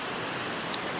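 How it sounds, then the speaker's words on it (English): A river flows steadily at a backcountry backpacking campsite in the Dolly Sods wilderness, a dense, even rushing wash with no breaks and nothing spoken over it. "listen to the river"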